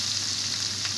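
Food sizzles steadily in a hot pan after half a lemon is squeezed over it for a brief sauté, a continuous close frying hiss with no one talking.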